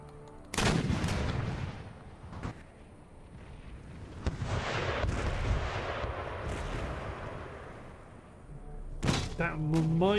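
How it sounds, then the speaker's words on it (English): Foot artillery fires in a Napoleonic-era battle in the strategy game Empire Total War, loud booming cannon shots with rumbling battlefield noise between them, and a voice speaks briefly near the end. "Engage the foot artillery."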